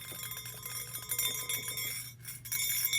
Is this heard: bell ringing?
yes